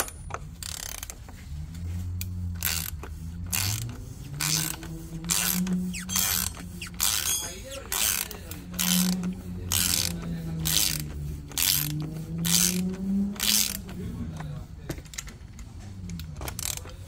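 A ratchet with a 27mm deep socket loosens the oil filter on a 2022 Mercedes C300 W206, giving long runs of rapid metallic clicking in repeated back-and-forth strokes, close and clear, with no talk.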